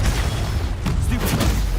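Bombarda and Confringo explosion spells go off in Hogwarts Legacy as a loud, dense booming rumble that fills the whole short moment without a break.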